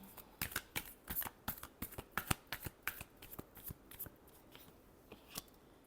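Tarot cards are shuffled by hand in a series of crisp riffling flicks and snaps, close and fairly quiet, in an irregular rhythm that slows toward the end.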